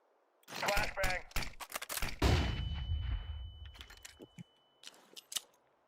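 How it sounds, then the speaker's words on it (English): A voice speaks briefly over bursts of gunfire in a video game, then a flashbang grenade goes off with a loud, close blast, leaving a thin, steady ringing tone as the rumble fades, with a few scattered shots after. "Flashbang."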